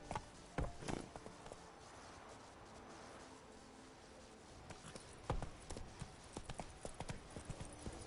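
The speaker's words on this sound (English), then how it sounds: "Come on, Roach." Hooves clip-clop steadily as the horse Roach walks in the video game Witcher 3, with close, even footfalls and a few louder steps.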